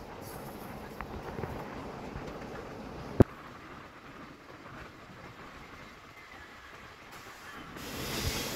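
A goods train rolls past near Bugganapalli Cement Nagar railway station on the Guntur–Guntakal line, giving a steady close rumble with one sharp click partway through and no voices.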